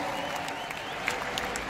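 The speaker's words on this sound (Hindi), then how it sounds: "ताली तो बजा दो।" Audience clapping at an Asclepius Wellness Mahotsav product launch event, a steady dense wash of applause from a crowd lasting under two seconds, with faint talk mixed in.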